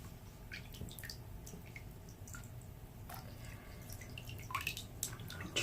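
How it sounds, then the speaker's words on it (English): A hand swishes a glittery bath bomb around in bath water, producing faint, close splashes and drips that come in irregular bursts. "as I move it around the bath water"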